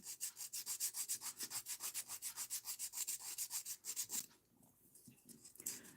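A sculpted acrylic nail is filed to bevel it toward the free edge, producing fast, steady rasping strokes up close that stop after about four seconds, followed by quieter faint handling noise.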